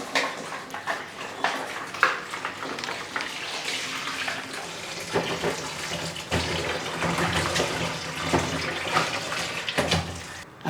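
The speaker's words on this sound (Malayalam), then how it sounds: "മൂന്ന് പച്ചമാങ്ങ എടുത്തിട്ടുണ്ട് അതൊന്ന് കഴുകി എടുത്തിട്ടുണ്ട് നന്നായിട്ട് കഴുകി എടുക്കുക" Three green mangoes rinsed under running tap water in a sink, a steady broadband splash with irregular clatters and knocks as the fruit is rubbed and turned, close and continuous throughout.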